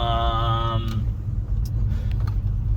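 A manual Ford Falcon XW GT muscle car pulls away with a loud, close engine rumble and rising revs, and a steady drone carries on after a short higher tone at the start.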